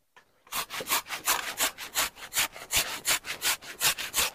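A potato is grated on a hand grater with quick rhythmic rasping strokes, about a dozen even scrapes in steady succession, close and loud.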